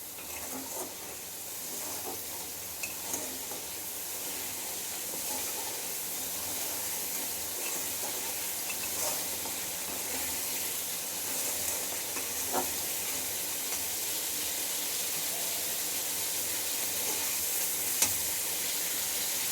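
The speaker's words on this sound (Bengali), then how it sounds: "এবার মশলাটাকে আমি কষিয়ে নেব, ভালো করে মশলাটা কষিয়ে নেব" Spice paste (masala) frying in a pan with a steady, dense sizzle throughout, plus occasional faint scrapes and pops from stirring, close by and without any talk.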